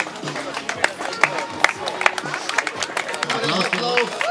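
Outdoor crowd at a running race awards ceremony applauding, with a steady patter of claps and scattered sharp hand slaps, the sound of people chattering underneath.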